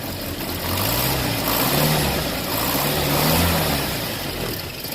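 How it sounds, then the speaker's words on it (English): An engine runs and revs gently, its low drone swelling and easing across the clip, with a steady hiss over it that fits a suspected exhaust leak at the downpipe after the valves were lashed. "I think I can hear an exhaust leak."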